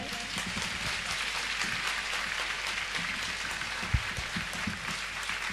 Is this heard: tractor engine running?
no